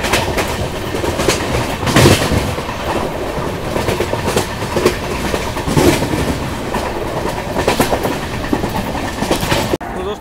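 Duronto express train running from Yesvantpur toward Howrah, with a continuous rolling rumble and repeated clickety-clack wheel beats on the rails, loud and close throughout, ending abruptly.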